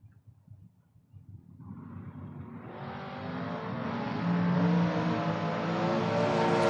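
An '84 Daytona and a 2024 American Chassis dragster race at a drag strip, starting with a low idling rumble before a roaring engine builds steadily and stays loud and sustained to the end.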